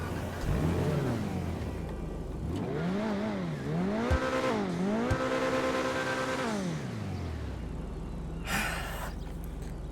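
Coquette D5 car engine in GTA Online revving repeatedly, its V8-like note rising and falling through several loud sweeps before dropping to a steady idle, with a brief burst near the end.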